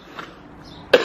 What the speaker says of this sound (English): darn cough.